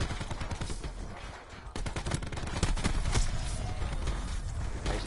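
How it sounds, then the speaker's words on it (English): Shotgun fire in Black Ops 4, a chaotic stretch of rapid gunfire. A quieter gap is followed by a dense, loud barrage of overlapping shots, with no speech. "Nice fire shotgun, kid."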